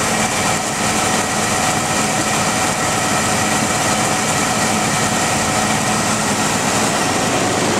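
A Chevrolet Z71 pickup truck engine idles nearby, loud and continuous, with a dense steady rumble and hiss that holds unchanged throughout.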